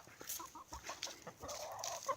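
A calm, unafraid chicken clucks in short, close, irregular bursts, several soft clucks in a row with light background noise and no talk.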